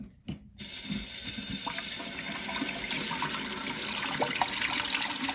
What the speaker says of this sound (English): So now I'm going to reach down, turn the water on, and you'll see it flush.